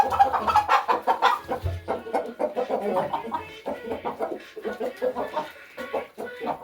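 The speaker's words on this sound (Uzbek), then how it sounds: "Mana tovuqcha." A laying hen clucks steadily and close by in a rhythmic run of short, fairly loud calls, with no talking over it.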